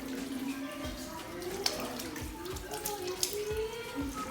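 A tap runs steadily as hands are rinsed up to the elbows at a sink during a clinical hand-washing routine; a quiet, continuous stream of water with small splashes.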